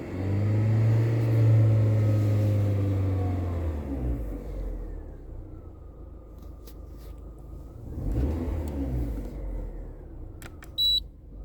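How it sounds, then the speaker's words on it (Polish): A Seat Cordoba engine running on an LPG conversion is revved, the loud low roar rising and then settling to an even idle before a second rev, followed by a couple of short electronic beeps near the end. "Silniczek sobie równiutko chodzi, dodaję gazu"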